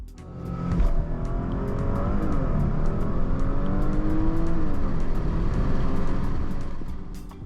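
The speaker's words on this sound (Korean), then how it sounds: "브레이크 페달 이후 엑셀레이터를 밟으면 런치" A Porsche Panamera 4 Platinum Edition in Sport Plus mode launches hard from a standstill, the engine note climbing loud and steady through the gears for several seconds before easing off, with sharp clicks scattered over the pull and no one talking.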